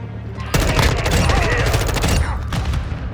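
Dense automatic gunfire rattles nonstop in a Modern Warfare 2 match, loud and close, easing off briefly before another burst, with a voice faintly mixed into the combat noise.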